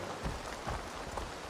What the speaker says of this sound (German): Ach ja, und der Regen wieder.